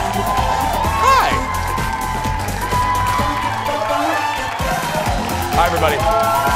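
A talk-show studio audience cheers, whoops and claps steadily throughout, with shouts rising in bursts near the start and end while a host speaks over the crowd noise.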